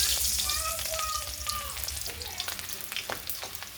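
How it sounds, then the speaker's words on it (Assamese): Chopped onion frying in hot mustard oil in a pan, a dense crackling sizzle with faint tonal whines at first, then scattered popping bursts, close and steady, no voices. "মোৰ পিঁয়াজখিনি ভজা হৈ গৈছে।"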